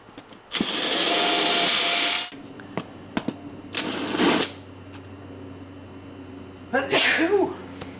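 A single loud, breathy sneeze bursts out near the mic on a sailboat during an underwater light installation, followed by quieter bumps and a second short burst of noise.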